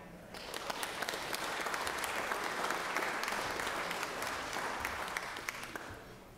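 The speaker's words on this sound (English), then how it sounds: "Please give them a round of applause, both groups, for being here today." Applause rings out in the Georgia Senate chamber, a broad, sustained wash of many hands clapping that builds and holds for several seconds, heard from a distance and fairly soft.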